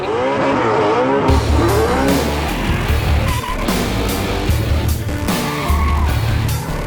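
A Mustang's engine roars steadily at high revs while tires squeal and skid in long sweeping drifts, loud and close, with a brief squeal at the start.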